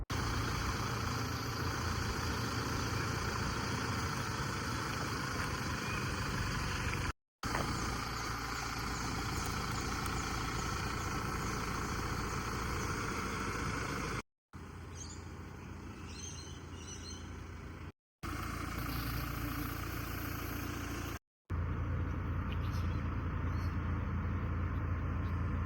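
Inside a 2025 Toyota Prado Altitude SUV, the engine hums steadily at low revs on the road, a muffled cabin drone with brief cuts in the sound.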